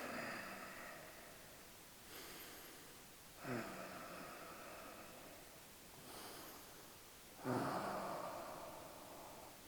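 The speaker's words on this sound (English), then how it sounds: "3 more breaths." Slow, deep breaths taken while holding a stretch in a follow-along stretching class for jiu-jitsu, with four soft inhale-exhale swells spaced a couple of seconds apart, close and fairly quiet.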